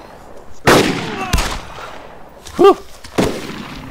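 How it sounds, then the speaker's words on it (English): Gunfire in the survival video game DayZ: four sharp, loud shots at irregular intervals, one followed by a brief ringing whine, over a low, steady ambient background. "Three shots, two kills."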